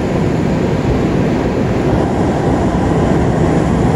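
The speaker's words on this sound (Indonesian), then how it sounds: "Kereta Lodaya sepertinya dari Bandung tujuan Solo Balapan. Masuk di jalur 4 stasiun Gombong." Lodaya passenger train, running from Bandung to Solo Balapan, pulls into track 4 at Gombong station with a loud, steady broadband rumble and rolling roar, close by and unbroken, no voices over it.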